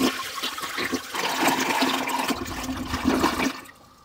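Toilet flush of 1.5 gallons of water, a loud rushing swirl that starts at once, holds for about three and a half seconds, then drains away quickly to quiet.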